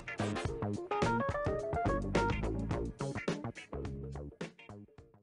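A quick, punchy funk keyboard lick with choppy, percussive chords and syncopated stabs, played briskly and up close with short gaps between phrases.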